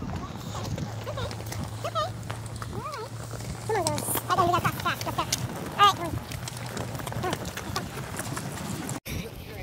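Hooves of a ridden horse clip-clop along a country track on the way to the vet, steady footfalls amid wind and rustling, with faint voices or other animal calls nearby.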